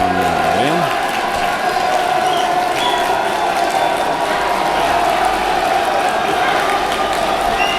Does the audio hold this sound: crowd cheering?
yes